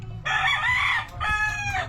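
A junglefowl rooster crows loudly nearby, a short two-part call with a harsh, bright tone over faint background noise.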